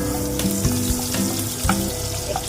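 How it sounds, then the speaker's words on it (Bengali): Sliced onions dropped into hot oil with whole garam masala and cumin, giving a loud, steady sizzle and crackle with occasional stirring clatter from the pan. "পেঁয়াজটা দিয়ে দিলাম।"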